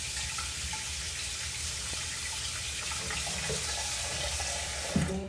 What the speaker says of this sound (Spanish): Y la vamos a poner agua caliente aquí.